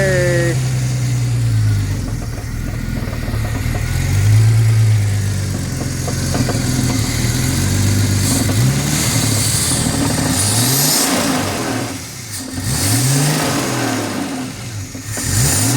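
A car engine that has just been restarted after its fuel line was bled runs steadily near the listener, swelling through repeated revs and a rough uneven idle, with a voice speaking over it partway through.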